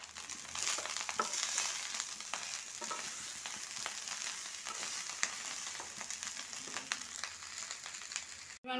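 Boiled rice is stirred with fried coconut in a hot pan, producing a continuous soft frying sizzle with scattered scraping and tapping of the spatula, close but quiet and without talk.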